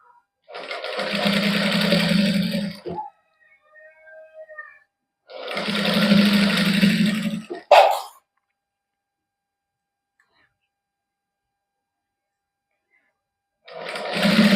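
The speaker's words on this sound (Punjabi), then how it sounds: "ਬਰੀਕ ਬਰੀਕ ਸਿਲਾਈ ਆਪਾਂ ਕੱਪੜੇ ਉੱਪਰ ਲਾਵਾਂਗੇ" A sewing machine stitches a fine seam on cloth in two long, loud runs of rapid whirring separated by pauses, with a short burst near the end and quiet gaps between.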